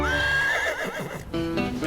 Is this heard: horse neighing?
yes